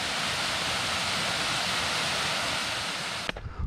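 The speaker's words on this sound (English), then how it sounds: "And there's the waterfall right there" The Fairmont Waterfall in the Beaver Valley roars as a steady, full-band rush of falling water, loud and constant, before cutting off abruptly near the end.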